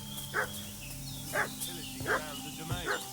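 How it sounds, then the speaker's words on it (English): A dog barks in the medieval game Kingdom Come: Deliverance 2, four short barks at a moderate distance, spaced about a second apart over a faint ambient background. "What's that dog making such a fuss about?"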